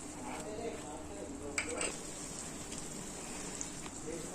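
Pav bhaji buns frying to a crisp on a pan, a soft, steady sizzle close by with a few faint clinks of a utensil against the pan, quiet and continuous.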